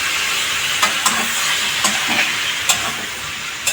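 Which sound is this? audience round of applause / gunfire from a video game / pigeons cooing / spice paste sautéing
spice paste sautéing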